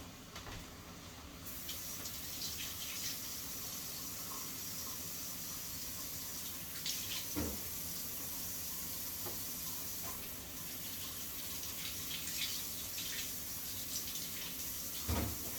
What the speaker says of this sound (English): Try to get most of the dirt out of them, so I'll wash them again.